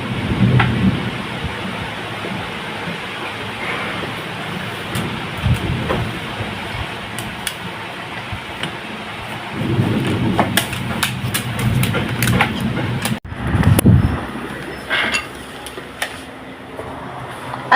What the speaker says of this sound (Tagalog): Huwag na pakinggan yung kulog na yan.